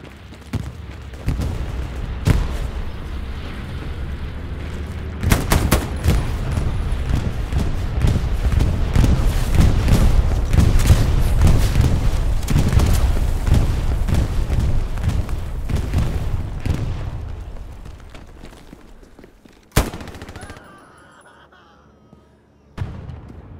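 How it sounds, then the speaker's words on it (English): Heavy bombing run in the Hell Let Loose WWII shooter: a sustained roar of booming explosions and gunfire builds for about fifteen seconds, loud and dense, then fades, with a final sharp blast near the end. "Enemy bombing."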